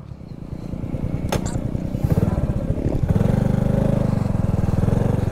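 Motorcycle engine idling and revving up near, a steady low drone with rising throttle on a road in the Philippines, with faint voices in the background.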